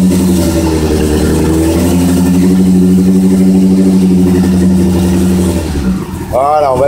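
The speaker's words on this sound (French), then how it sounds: "On va mettre un petit peu du gaz pour accélérer le phénomène." A Yamaha FZ6 motorcycle engine, being set up for throttle body synchronization, is revved on the throttle, holding a loud, steady raised drone up close before dropping back toward idle, with a short voice at the end.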